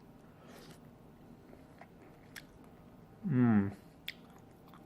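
A single wet, crunchy bite into a cut Australian mango, close and brief, surrounded by quiet room tone, with a soft murmur from a person just before.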